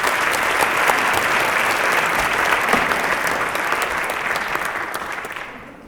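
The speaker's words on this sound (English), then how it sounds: "if you could give a warm round of applause to Kaylee Meyer," A school audience at a 2019 AAHS Shark Tank event gives a warm round of applause to a student team, producing dense, steady clapping that fills the room and tapers slightly toward the end.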